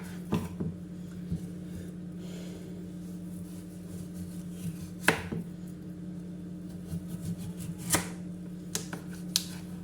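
Knife chopping raw taro into cubes on a board, a quiet irregular series of sharp taps with a few louder cuts spaced apart over a steady low background hum.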